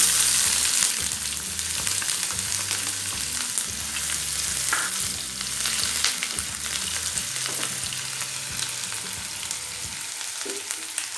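Chopped onion frying in oil for drumstick masala curry, a loud, dense, constant sizzle with a few stirring scrapes, close and steady, no voices.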